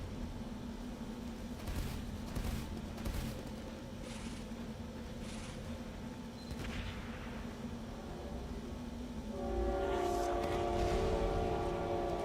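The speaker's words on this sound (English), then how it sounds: "Oh, let's see, there's a train." A train rolls past in the Team Fortress 2 video game, a steady low rumble of the cars running through the whole stretch and swelling louder near the end, with a few brief bright bursts of game noise over it.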